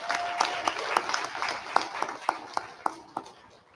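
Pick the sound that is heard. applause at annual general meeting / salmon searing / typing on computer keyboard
applause at annual general meeting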